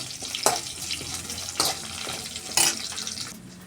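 Small shallots sizzle in hot oil with curry leaves, a steady low crackle broken by three brief louder bursts of stirring spaced about a second apart.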